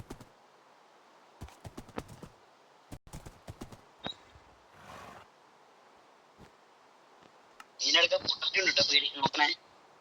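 A horse in a farming video game gives sparse, crisp hoof clicks spread across the span, with a louder burst of sound near the end and voices talking faintly.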